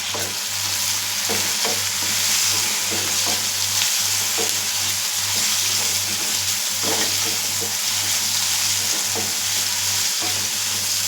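Tomatoes and green chili sautéing in a pan for mutton gravy, a continuous close sizzle with faint stirring scrapes and a low steady hum from the stove underneath.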